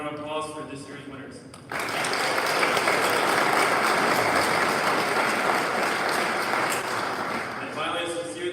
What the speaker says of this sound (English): One more round of applause for this year's winners.